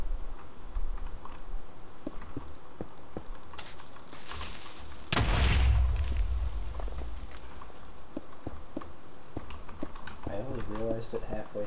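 A creeper explodes in Minecraft with a single loud, booming burst that fades over a second, surrounded by steady keyboard and mouse clicking.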